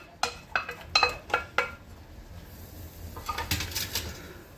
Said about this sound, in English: Mix in the boiled potatoes.